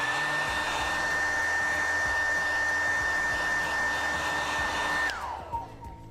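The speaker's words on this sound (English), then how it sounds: "dry the area with a hairdryer" A hairdryer blows steadily and loudly on drying paint on a leather item, a constant whirring roar for about five seconds before it switches off and winds down.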